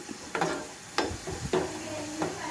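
Finely sliced big onions fry in oil for biryani, a steady close sizzle broken by four sharp scrapes or clinks of a spoon against the pan, evenly spaced, with no voices.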